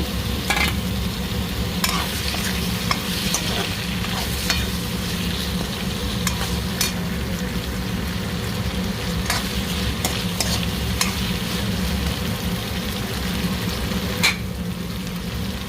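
Chopped onion, ginger-garlic paste and tomato fry in a pan while a spoon stirs. There is a steady sizzle with scraping clicks throughout and no voices.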